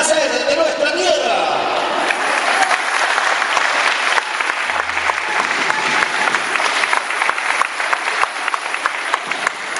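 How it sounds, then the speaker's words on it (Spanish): Loud, sustained applause from a crowd at a regional cueca festival in Pichidegua, greeting a folk dance group, a dense steady clatter of clapping that fills the whole stretch with some cheering in it. "Saludamos con un aplauso tremendo para Renacer de nuestra tierra."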